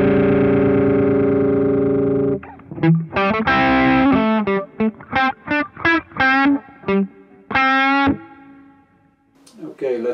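Electric guitar played through a Rowin Dumbler overdrive pedal with fizzy distortion: a long sustained chord rings out, then a quick run of separate picked notes and short chords with a sharp attack, loud and close, without any talking.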